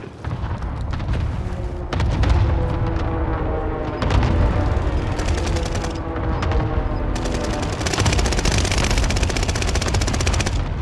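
Cluster airstrike in the Warzone video game: a rapid, continuous barrage of loud, close explosions and crackling blasts, with heavier bursts recurring every few seconds and no pause in between.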